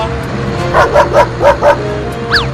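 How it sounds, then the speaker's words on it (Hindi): A dog barks and yips in a quick run of five or six close, sharp barks, ending with a higher whimpering yelp. "अरे ये कुत्ता क्यों पीछे पड़ गया?"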